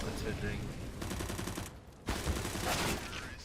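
Rapid bursts of gunfire from a Counter-Strike match crackle densely for a few seconds, with a brief gap and then more shooting, while a commentator talks over them.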